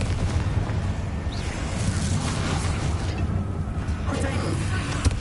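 A Confringo spell blast erupts during a hectic Hogwarts Legacy battle, a rumbling, crackling explosion running under steady low noise, with voices speaking over it.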